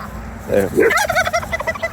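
At a farm feed trough, chickens and ducks jostle and call loudly up close, a rapid run of squawking, gobbling-like fowl cries with no talking.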